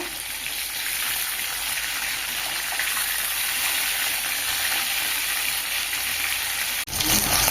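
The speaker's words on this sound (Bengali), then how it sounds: "মাছ একদিক ভাজা হয়ে গেছে, উল্টে দেবো।" Stingray fish frying in hot oil gives a steady, loud, dense sizzle that runs unbroken, with a brief dip near the end as the pieces are turned.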